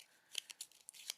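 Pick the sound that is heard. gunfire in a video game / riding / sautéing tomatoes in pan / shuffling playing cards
shuffling playing cards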